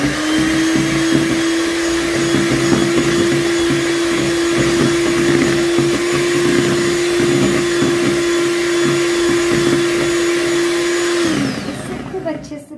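An electric beater whirs steadily and loudly while whipping curd cake batter in a kitchen, a constant motor drone lasting about eleven seconds before it cuts off abruptly.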